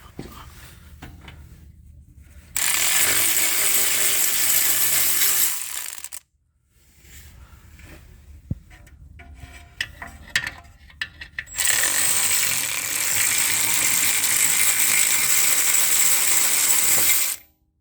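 Two screws come out during a brake pad replacement on a 2020 BMW X3, with metallic tool clicks and ratcheting, long loud stretches of broadband mechanical noise and brief pauses between them, close and without talk.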